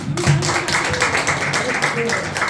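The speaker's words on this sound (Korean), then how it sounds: "자, 애쓰고 수고해주신 우리 작가님들께 크게 우리 참 잘했구나 박수 한번" An audience at a book launch applauds its authors, steady close clapping that runs throughout with voices talking over it.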